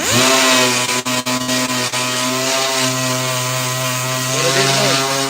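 A power sander works on cut aluminum plaques before priming, a loud steady whine with strong harmonic tones that dips briefly a few times as it is lifted and pressed back against the metal, close up with no talking.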